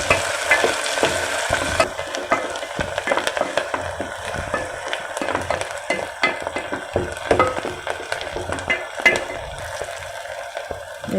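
Small shallots stirred and frying in hot oil with cardamom and star anise for a Chettinad mutton kulambu, a steady close sizzle broken by frequent spoon scrapes and clicks against the pan, with no voices.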